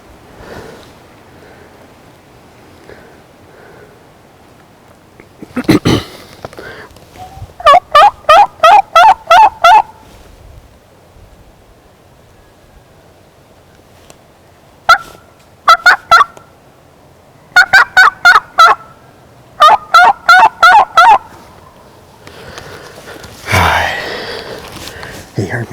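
Wild turkey long beard gobbling during a hunt: several rapid, rattling gobble bursts repeated at intervals, fairly loud and carrying from a nearby ridge, with a faint voice and some rustling between calls.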